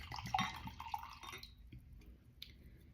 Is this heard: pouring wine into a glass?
yes